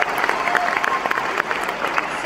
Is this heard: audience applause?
yes